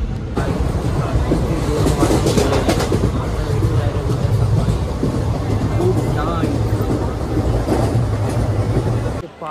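An express train pulling into Khed station gives a continuous, loud rolling rumble with rhythmic rattling and clattering, and occasional squeals over it. The sound holds steady for nearly ten seconds before dropping off abruptly.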